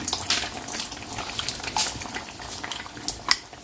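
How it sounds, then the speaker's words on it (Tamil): Tamarind water pours and bubbles into a hot pan of cooking sundakkai turkey berries, a steady liquid rush with light boiling crackle, close and alone with no talk. "இப்போ நம்ம புளி கரைசல் ஊற்றிக்கலாம்."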